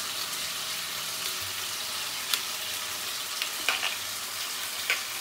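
Potatoes for dum aloo fry in a pan with a continuous, fairly soft hissing sizzle, broken by a few brief crackles and taps near the end.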